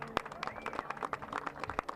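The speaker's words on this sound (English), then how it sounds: "Let's give him a great big round of applause." Audience applause at a press preview for an air show at Jones Beach: scattered, fairly sparse claps from a modest crowd, heard at close to mid distance, brief and not very loud.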